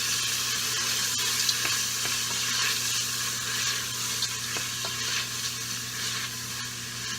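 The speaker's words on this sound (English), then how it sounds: "about 2 cups of frozen peas, or about a half of a 1-pound package. So add those in. And give it a stir." Frozen peas stirred into sizzling bacon and onion-infused oil for pasta e piselli, a steady close frying hiss with occasional soft scrapes and clicks of stirring throughout, no talking.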